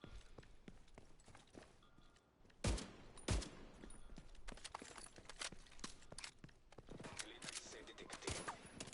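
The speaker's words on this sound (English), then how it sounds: "That's one of my allies that is just shooting it." Gunfire from an allied character in the video game The Division 2: bursts of rapid shots with two louder, sharper reports partway through, over a steady game background.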